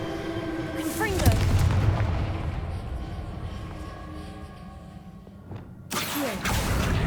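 Blasts of the Confringo fire spell in the game Hogwarts Legacy, two heavy booming bursts with rumbling tails, one near the start and another near the end, surrounded by game effects and low rumble.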